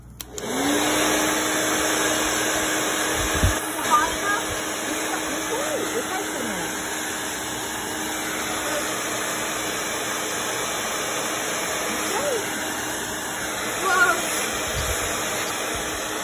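A blow dryer runs with a steady whirring hum that starts abruptly and holds throughout, with a few brief clunks and faint background noises over it.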